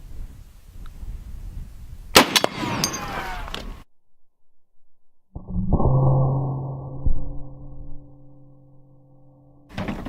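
A .50 cal armor-piercing black tip round from a heavy sniper rifle strikes stainless steel with a sharp, loud crack and brief metallic ring, followed by quiet, then a louder ringing metallic rumble.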